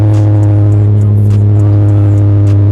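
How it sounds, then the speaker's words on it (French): A loud, steady low engine hum dominates, like nearby road traffic with vehicles rolling past, a constant droning rumble with faint higher clicks and hisses on top and no voices. "Le trafic fait un peu moins de bruit quand même."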